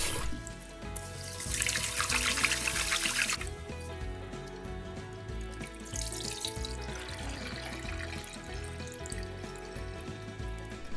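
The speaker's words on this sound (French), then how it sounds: "Et maintenant, on déverse l'eau et on va refaire ça encore 4 fois." Water is poured off rice being washed in a bowl at a kitchen sink while making onigiri. A rushing splash runs for a few seconds, then fainter trickling and sloshing follows, close by with no talk.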